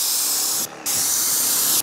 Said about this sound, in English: I'll spray from high, nice and quick.